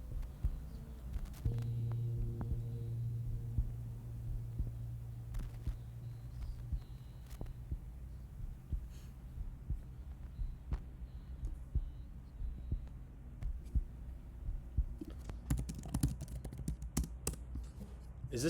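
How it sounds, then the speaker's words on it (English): A slow heartbeat thump closes a song, steady low pulses over a faint hum, continuing alone to the end with occasional clicks and rustles near the close. "Is the rest of this just the heartbeat?"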